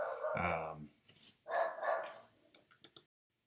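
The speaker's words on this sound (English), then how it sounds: "One of the dogs was barking." Domestic farmhouse dog barking indoors, a few loud deep barks close by followed by short fainter yips, with no talk over it.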